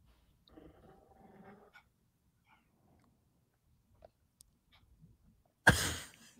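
A dog growls and whimpers during an earthquake, first with a low, restless rumble, then a few scattered faint noises, before a sudden loud burst of agitated sound close by near the end.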